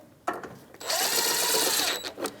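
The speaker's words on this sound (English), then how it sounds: "Now we have our 3 mounting nuts with that 10mm socket." A power tool whirs as it drives mounting nuts with a 10mm socket on a 2016-2025 Chevrolet Malibu windshield washer reservoir, giving one steady buzzing run of over a second after a couple of short clicks.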